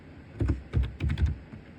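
An IP address being typed on a computer keyboard: close, quick clusters of crisp keystrokes in four short bursts with brief pauses between them.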